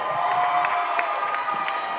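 Children at a summer camp drama session cheer and shout together in a steady, lively crowd noise lasting a couple of seconds, with scattered whoops over the din.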